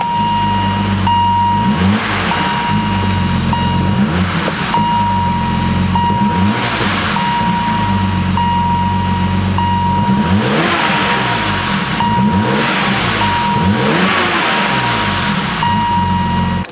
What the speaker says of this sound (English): The legendary BMW S38 engine.